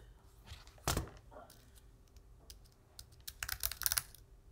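Bursts of computer keyboard typing, a loud cluster of keystrokes early, then quieter taps building into a rapid clattering run near the end.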